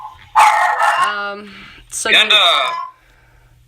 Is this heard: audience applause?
no